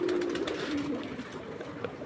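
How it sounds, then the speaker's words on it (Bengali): Pet pigeons out in the sunshine give a steady, droning coo that holds through the first second, over a constant hum of ambient noise. "এই যে রৌদ্র উঠলে কবুতরগুলো অনেক খুশি হয়ে যায় আসলে"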